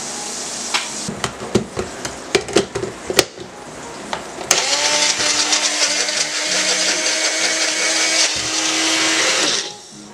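A food processor mincing peppers and onions: a run of sharp chopping pulses and clatters, then a steady loud whirring motor that holds for about five seconds before cutting off.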